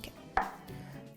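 Knife slicing through a block of tofu to cut it into fries in a home kitchen: a single crisp cut with a board knock near the start, then a faint second tap at the end, close and fairly quiet.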